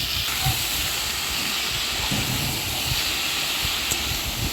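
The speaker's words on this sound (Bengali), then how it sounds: "কড়াইতে তেল দিয়ে মুগ ডাল দিয়ে দিলাম। মুগ ডালগুলো হালকা ভেজে নেব।" Moong dal frying in oil in a wok gives a steady, close, loud sizzling hiss that runs unbroken throughout, with no talking.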